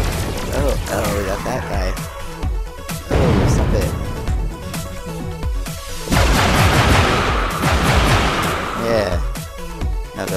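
Rapid bursts of gunfire in a mixed reality shooting game, popping repeatedly in dense clusters with louder volleys around the middle and end, under excited talk from a player.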